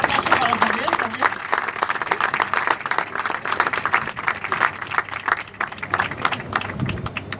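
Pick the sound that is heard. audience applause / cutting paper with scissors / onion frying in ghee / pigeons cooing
audience applause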